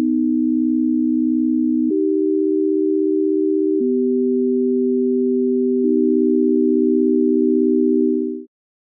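Synthesized sine-tone chords built from an invented musical scale, a steady electronic drone that shifts to new pitches about every two seconds, three chords in a row, clean and loud with no voices.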